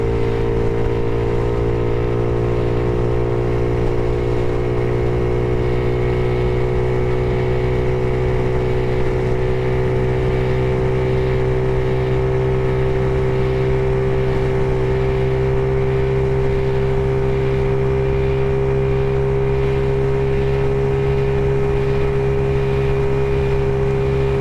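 A modified Maddog GY6 150cc scooter engine with big bore kit, cam and aftermarket CDI holds a steady, loud full-throttle drone for the whole stretch, close and continuous with a strong low hum and no talking.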